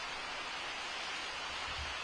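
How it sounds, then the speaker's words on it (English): Rain falls in Israel as a soft, steady hiss of fine drops, quiet and continuous, with no voices and no distinct individual drops. "Got some rain coming down here in Israel at the moment."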